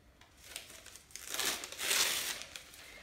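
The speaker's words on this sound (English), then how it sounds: "all I'm going to do is rip strips out of the newspaper" Newspaper is ripped into strips by hand for a craft picture, giving a few close, soft, rustling tearing swells, the longest near the end, with no talking.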